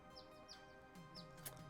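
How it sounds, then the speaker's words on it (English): Faint bird chirps, a few short high tweets spaced across under a steady low background hum, distant and quiet. "It's not the bird chirping right now."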